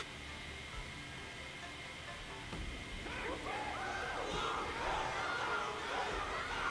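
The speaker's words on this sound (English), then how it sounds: "Everyone's cheering for you, Luca" A video game crowd in Honkai: Star Rail cheers and shouts in a broad, steady roar that grows louder and busier partway through, with excited voices rising above the din.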